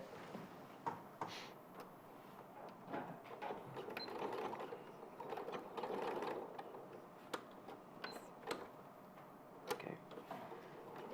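Domestic sewing machine top stitching along the folded edge of a pocket, a steady mechanical whirr with ticking clicks running close by for several seconds, pausing briefly and resuming, with no one speaking.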